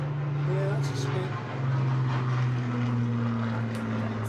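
A Spitfire aircraft flies past a riverside rowing regatta with a steady propeller-engine drone that holds loud throughout and shifts in pitch as it passes, while spectators talk nearby.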